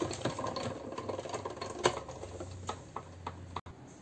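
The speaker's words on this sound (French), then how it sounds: "Et je la passe en machine." Paper card fed through a hand-cranked crafting die-cut machine, a close series of soft rhythmic clicks and rattles with a low grinding hum, fairly quiet and ending with a sharp click.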